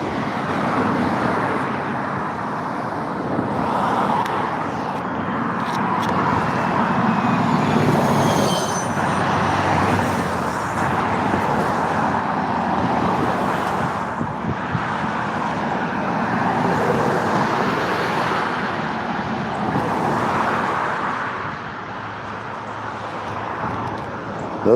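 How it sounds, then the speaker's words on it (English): Steady road traffic backed up on a roadway, a continuous broad rumble of cars and heavier vehicles idling and creeping nearby, holding at an even loudness throughout with no clear voices. "that traffic was getting backed up pretty good there"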